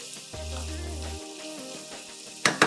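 Potato and broad beans fry in a pan with a steady sizzle under a tonal hum. Two sharp stirring clatters come near the end, and no one speaks.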